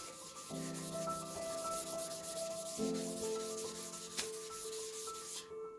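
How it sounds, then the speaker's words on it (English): A rag rubbing wood stain into a handmade wooden shelf, a steady close scrubbing and swishing that goes on without a break, with a faint tonal hum in the background. "Just gotta keep that rag moving and keep that stain moving. And just rub it right in there."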